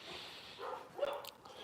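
A young, energetic dog on a farm gives a couple of short, faint barks or vocal yips from some distance, over a steady background hiss.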